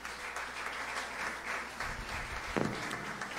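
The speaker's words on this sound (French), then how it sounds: "On nous applaudit à la gloire de Dieu." A church congregation applauding during a worship service, a dense wash of many hands clapping steadily, moderately loud and a little distant in a reverberant hall.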